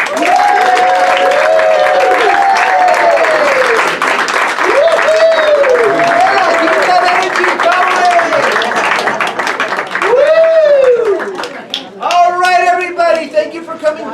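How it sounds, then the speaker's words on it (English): An audience at a charity magic show, Conjuring for a Cure, applauds a magician: loud, sustained clapping mixed with cheering voices and whoops, swelling again near the end. "Please give a round of applause for Markus Kublin."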